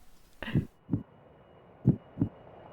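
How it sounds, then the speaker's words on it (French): Heartbeat effect from the Nintendo 3DS game Tomodachi Life: four soft, low thumps in two pairs, clear and alone with no talk over them. "j'ai le cœur qui bat"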